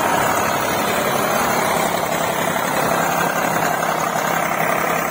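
An Eicher 485 tractor engine runs steadily while pulling a land leveller, a loud, close, continuous drone with an even low rumble and no voices over it.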